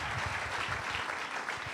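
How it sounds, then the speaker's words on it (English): Audience applause for Aaditya Thackeray at a Harvard speaking event, a dense steady wash of clapping that holds at an even level throughout the short stretch, with no voices over it. "A huge round of applause for Aaditya Thackeray"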